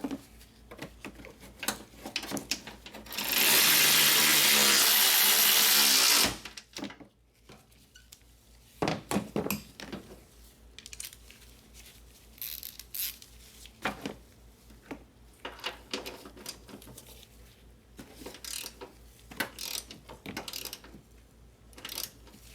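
Strut mount nuts on a Toyota Highlander being tightened: a loud, steady mechanical whirr lasts a few seconds early on, then sparse ratcheting clicks and metallic taps follow, close by, with no talk.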